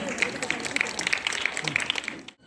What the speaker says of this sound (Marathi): जोरदार टाळ्या वाजवा यांच्यासाठी